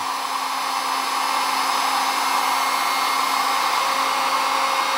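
A heat gun blows a steady, unbroken hiss and whine while heating a stuck bicycle quill stem. It runs close and constant throughout with no talk.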